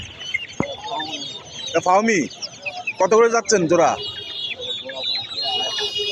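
Chickens cluck and squawk loudly at a pigeon and poultry market in Khulna, Bangladesh, in several close bursts. Someone speaks in between the calls.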